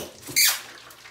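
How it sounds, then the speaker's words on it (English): A brief gurgling slurp of water drawn up through a siphon tube from a crawfish aquarium, one short burst standing alone in a quiet room. "So I'm gonna suck this water through, siphon it."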